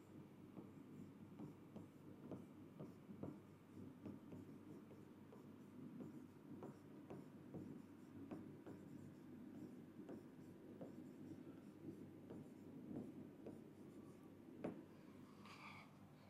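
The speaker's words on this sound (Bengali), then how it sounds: "সুন্দর করে আমরা লিখে রাখি" Pen writing on paper during a chemistry lesson, a soft continuous scratching with rhythmic strokes and taps close to the microphone, no talking.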